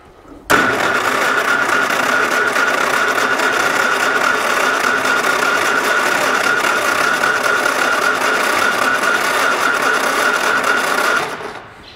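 Starter cranking a Flatfender Jeep engine fitted with a new fuel pump, a loud, steady mechanical whir with a constant whine that runs unbroken for about eleven seconds, then stops, with no voices.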